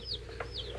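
A chicken gives a couple of quick, close clucks and squawks over a low steady background hum.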